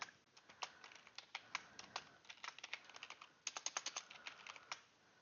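A computer keyboard clatters as text is typed into a sticker design program, a rapid, uneven run of close, crisp key clicks with brief pauses and no talking.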